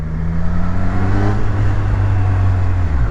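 A 2023 Triumph Street Triple 765 RS three-cylinder motorcycle engine hums loudly and steadily through a tunnel, a close, muffled low drone with the pitch holding and then dipping slightly at the end.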